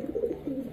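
A Sapchila breed female pigeon, a muffed and crested hen, gives a short, soft cooing call, heard close and alone.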